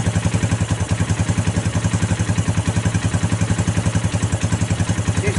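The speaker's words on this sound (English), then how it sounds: "Seems to be idling okay." Right after its first start and a carburetor idle adjustment, a newly assembled Tao Tao Rhino 250 engine idles close by with a fast, even putter. The rhythm stays steady throughout and no voices are heard.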